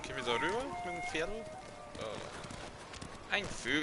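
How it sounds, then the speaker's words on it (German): Horse hooves in the video game Ghost of Tsushima patter quietly under someone talking over the game, the clip-clop low and partly masked by his voice. "Gehen wir da rüber mit dem Pferd?"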